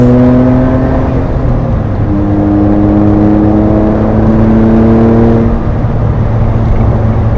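A Rossion Q1 sports car engine revs up loudly and smoothly, pitch climbing steadily, eases off, then climbs again, heard from inside the car with no talking.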